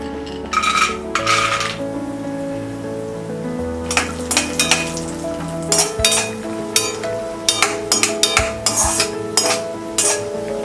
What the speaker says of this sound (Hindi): अब हम फ्राई करेंगे ये कैश्यू नट्स।